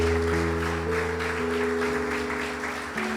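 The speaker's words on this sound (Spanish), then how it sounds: "Denle un aplauso fuerte a Jesucristo." A church congregation claps together for a sustained stretch, a dense wash of hand clapping heard over steady held music tones, with no speech.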